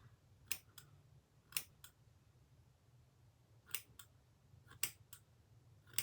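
Scissors snip through synthetic wig hair in sharp, quiet clicks, spaced in pairs over a few seconds, close up against a faint hum with no talk.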